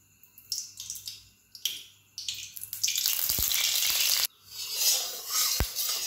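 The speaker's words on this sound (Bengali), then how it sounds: "কড়াইটা গরম হয়ে গেছে, এবার আমি এর মধ্যে সর্ষের তেল দিয়ে দেব" Mustard oil goes into a hot wok while cooking Bengali-style fish curry, giving bursts of crackling sizzle that rise and fall, with a few sharp pops and brief quieter gaps between surges.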